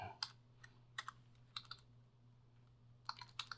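Someone types a command into Notepad on a computer keyboard, producing quiet, close key clicks in short irregular bursts separated by pauses, with no voices.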